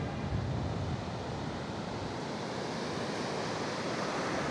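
Sea waves and surf at Cox's Bazar beach roar in a steady, loud, continuous wash close by, with some wind noise on the microphone and no talk.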